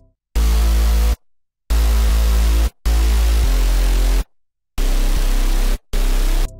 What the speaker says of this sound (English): Altogether our bass line sounds like this.